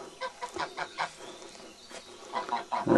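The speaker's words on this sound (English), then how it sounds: "crazy geese." Several geese honk in a backyard with a fish pond, a cluster of nasal calls in short bursts, moderately close, with a louder flurry at the end.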